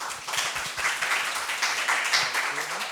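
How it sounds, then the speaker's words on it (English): A conference workshop audience gives a warm round of applause to welcome someone speaker, a fairly soft, continuous patter of many hands with a few louder claps early on. "let's welcome her with a warm round of applause"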